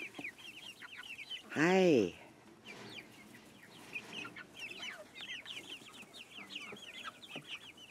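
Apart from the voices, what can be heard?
hen clucking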